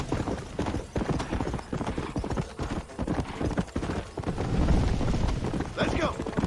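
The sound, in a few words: horse hooves galloping in Red Dead Redemption video game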